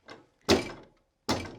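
A couch is lifted and banged down on a foley stage for film sound effects, giving three separate heavy thuds: a lighter knock, then two loud wooden bangs spaced apart, close and dry with silence between.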